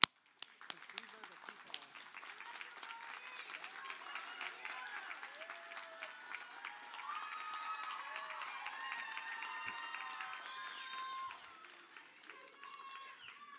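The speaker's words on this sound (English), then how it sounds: "can we start by just standing up and clapping for them?" An audience at a nursing pinning ceremony stands and claps for the graduates, a steady, moderately distant patter of many hands that swells in the middle, with scattered cheers and murmured voices beneath it.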